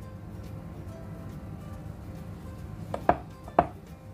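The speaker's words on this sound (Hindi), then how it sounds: "ഇതുപോലെ ഒരു സ്ക്വയർ പീസില് നമുക്ക് കട്ട് ചെയ്ത് എടുക്കാം" A knife cuts bread into square pieces on a board, giving faint soft sawing followed by two sharp chopping knocks near the end.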